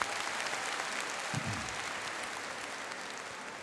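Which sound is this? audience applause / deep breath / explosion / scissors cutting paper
audience applause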